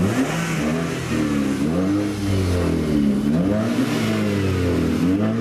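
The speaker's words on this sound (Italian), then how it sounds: "È il frastuono dei motori delle auto tuning modificate" Modified tuning cars revving their engines outside a church, a loud continuous roar with rising and falling pitch as throttles are blipped, close by and sustained throughout without speech.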